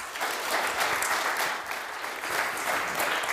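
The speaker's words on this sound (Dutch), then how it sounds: "Geef hem een warm applaus" Warm applause from an audience at a digital startups event, continuous dense clapping at moderate level swelling slightly near the start and again toward the end.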